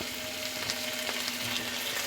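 Food fries steadily in a pan for a Bengali-style vegetarian potato and cauliflower dalna, just before the cauliflower goes in. The close, even sizzle runs unbroken throughout, with no voices.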